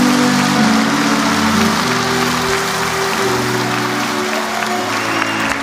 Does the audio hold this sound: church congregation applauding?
yes